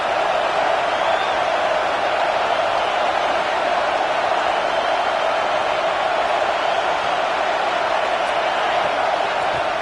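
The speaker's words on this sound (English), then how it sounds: "this crowd is fired up. Listen to this noise here." Roaring stadium crowd at a college football game, a steady dense wash of cheering and noise filling the whole stretch without a break.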